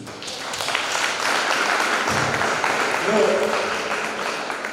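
Sustained applause from a crowd at the Maphumulo Festival workshop and exhibition, a steady wash of clapping across the whole stretch, with voices mixed in underneath.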